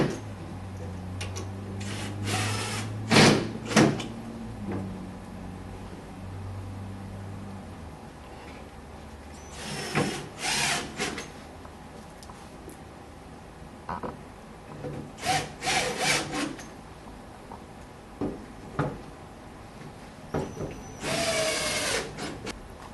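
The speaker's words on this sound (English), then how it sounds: "I'm going to put the screws in" A power drill drives screws into wooden nesting boxes: several short, whining bursts of the motor with gaps between them, alongside wood knocks and rubbing, close by and without talk.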